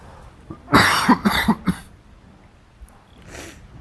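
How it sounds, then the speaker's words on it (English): A man coughs several times in a quick cluster, loud and close, followed by a quieter breath or throat sound after a pause. "when I get talking too much, my cough comes back"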